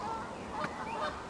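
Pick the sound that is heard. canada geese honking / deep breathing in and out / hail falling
canada geese honking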